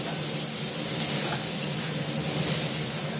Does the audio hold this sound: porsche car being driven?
no